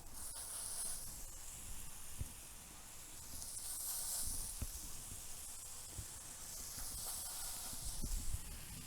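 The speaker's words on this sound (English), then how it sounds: "now we're going to put them on the soapstone just to let them get a little bit of a toast" Hamburger slider buns spread with mayonnaise toast on a hot soapstone slab in a Kamado Joe grill, giving a steady soft hiss with faint crackles throughout, with no talking.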